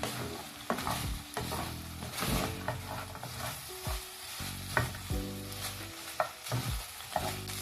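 Pork frying in a pan, browning with a steady sizzle and intermittent scraping stir strokes, loud and close throughout.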